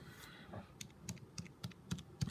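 Numbers tapped on calculator keys, a quick irregular series of about eight light plastic clicks, close and alone.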